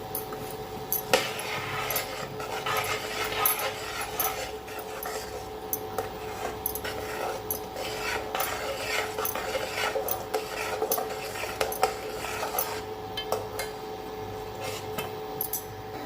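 Pineapple jam being stirred in a pot on an induction cooktop, with utensil scraping and clinking against the pot repeating steadily throughout, close and moderately loud, with no talking.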